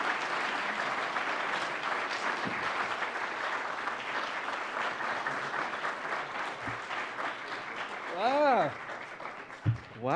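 An audience applauds steadily for an artist at a live talk event, a dense, even clapping that continues for several seconds before a voice begins speaking near the end.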